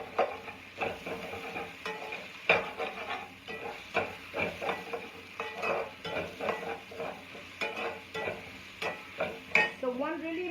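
A spatula stirs and scrapes okra frying in a kadai for bhindi karahi, with rhythmic metallic scrapes and clinks over a steady oil sizzle, close and moderately quiet, no talking.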